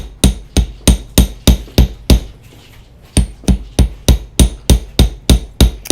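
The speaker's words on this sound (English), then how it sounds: "lift up the wire, pull it away from the bracelet, hammer it" Sharp metallic hammer strikes on bracelet wire over a bench block ring out in a steady, fast rhythm, pausing once briefly before the regular tapping resumes, close and loud.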